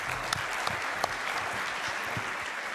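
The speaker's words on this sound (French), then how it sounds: "on peut l'applaudir" Applause for a speaker at a French scientific conference session, with steady, moderately distant clapping from a seated audience filling the whole stretch and no talk over it.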